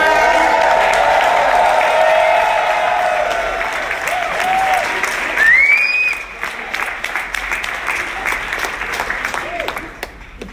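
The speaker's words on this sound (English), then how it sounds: "We're going to give a loud round of applause for Dr. Malone." A conference audience breaks into loud, sustained applause mixed with crowd noise and a few cheers, continuing steadily for about ten seconds and thinning slightly toward the end, with voices audible within the clapping.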